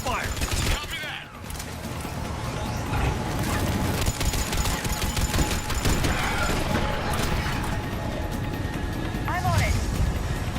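Covering gunfire in the Mass Effect 3 video game, with rapid weapon fire and mechanical game noise running throughout beneath shouted voices and dialogue.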